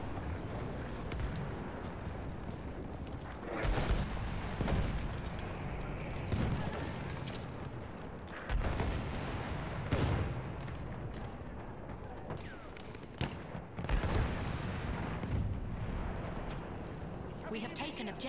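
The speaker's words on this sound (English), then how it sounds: "There is some sort of gunfire coming at me in a certain direction." In Battlefield 1, repeated bursts of gunfire and heavy artillery booms crack and rumble loudly through a battle soundscape, with several sharp impacts spaced irregularly, while a player talks over the action.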